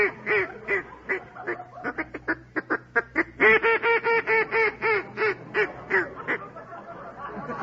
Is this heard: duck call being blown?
yes